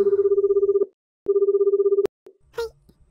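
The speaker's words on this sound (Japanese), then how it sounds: "携帯に電話をかけました" A Japanese phone line rings while a mobile phone is being called, giving two long, steady electronic ringback tones separated by a short pause, loud and close, followed by a brief click and a short voice.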